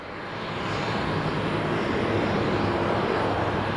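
A jet airliner at Tenerife South Airport roars in a broad, steady rush that swells slightly and holds loud throughout, with no voices.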